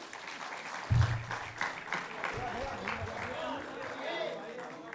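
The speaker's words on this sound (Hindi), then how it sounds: "तालियों में कमी ना कीजिए।" Crowd applause at a mushaira gathering in Azamgarh honouring a family, a moderate, continuous patter of clapping with a thump near the start and a few voices mixed in.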